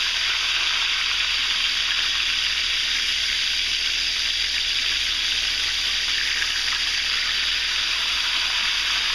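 Country fried steaks frying in a pan with plenty of oil, giving a loud, continuous, even sizzle up close with no talking.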